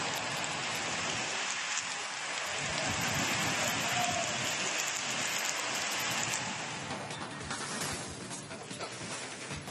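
Heavy monsoon rain pours down in Mysuru district, Karnataka, in a dense, continuous roar of drops, loud and unbroken throughout with no voices.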